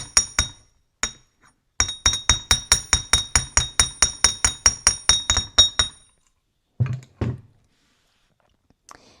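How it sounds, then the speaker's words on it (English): A hammer flattens metal wire again and again in a quick, steady rhythm of bright clinks, then stops, followed by a couple of scattered taps. "And we're back to hammering this flat a little bit."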